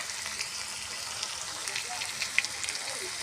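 Potatoes with turmeric and salt fry in hot oil for a savoury semolina dish, giving a steady, fairly quiet sizzle and crackle with small pops throughout.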